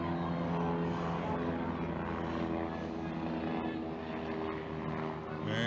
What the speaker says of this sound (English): As we see Greg Waiapu now leaving the stadium in the ARL chopper.